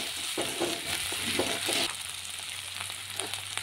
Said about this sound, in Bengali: আস্তে আস্তে নাড়তে থাকব যতক্ষণ না পর্যন্ত তেল ছেড়ে দেয়।